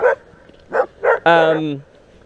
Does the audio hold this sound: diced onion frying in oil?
no